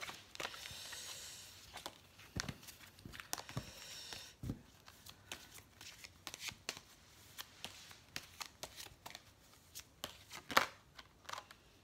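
Tarot cards shuffled by hand for a reading, a series of quick riffling and slapping bursts with brief pauses, close and fairly quiet, with no talking.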